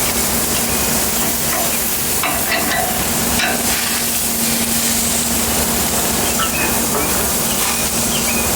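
Greek lamb chops sizzle loudly and continuously on a hot grill as they are flipped, a dense close hiss with faint clicks and clatter from handling, no speech.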